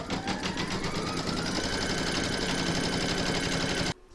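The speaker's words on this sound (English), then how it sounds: "Load file A into your machine, and then you're going to stitch round number one" A computerised embroidery machine stitches an applique placement outline at speed, a loud rapid, even mechanical rattle running close and steady for about four seconds before stopping abruptly.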